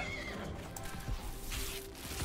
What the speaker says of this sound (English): Did I hear a neigh sound from the bunnycorn because it's a unicorn bunny?